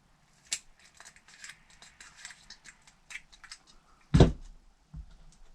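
Scissors snip braided fishing line while a braid-to-leader knot is tied. There are light handling clicks first, then one crisp, close cut, followed shortly by a soft thud.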